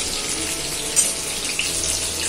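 Chicken marinated in ginger-garlic paste fries in a pan with a steady, dense sizzle that holds evenly throughout, with a couple of slightly sharper spits.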